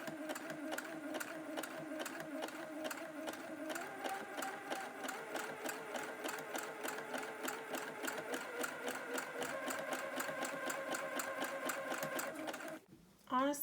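Sewing machine stitching around the curved sleeve seam of a smock dress, a close, evenly rhythmic rapid clatter running steadily for about twelve seconds before stopping, with a voice briefly at the end.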